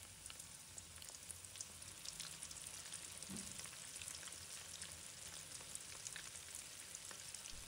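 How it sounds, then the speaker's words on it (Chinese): Starch-coated shrimp deep-frying in hot oil over medium heat give off a steady, soft sizzle of dense fine crackling throughout, close but low in level, with no talking. "全程保持中火炸制"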